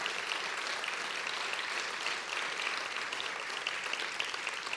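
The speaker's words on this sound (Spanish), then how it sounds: "Denle ese aplauso al Señor" A church congregation claps continuously, an even, sustained round of applause with no break, fairly loud and close.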